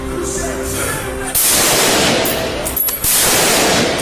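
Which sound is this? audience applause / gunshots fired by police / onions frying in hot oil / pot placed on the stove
gunshots fired by police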